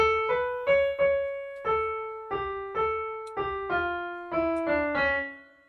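Keyboard playing the next phrase of the Ganesh Aarti melody, a clear sequence of about a dozen single notes, each struck and decaying, stepping gradually downward and then rising.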